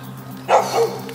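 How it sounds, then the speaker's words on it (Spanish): A wild dog gives a single sharp bark with a short trailing yelp, fairly close and loud above a low steady hum. "son perros salvajes que están aquí"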